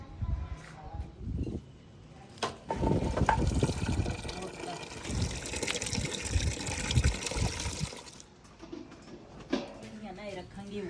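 Water gushes from a vessel into a cooking pot of meat in a village kitchen, a steady close pour lasting several seconds, with people talking before and after it.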